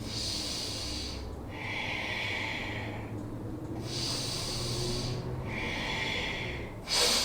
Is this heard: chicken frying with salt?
no